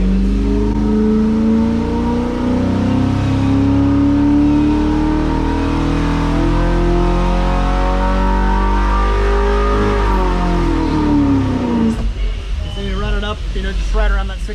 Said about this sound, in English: you'll hear that one big pull. That's a small block Chevy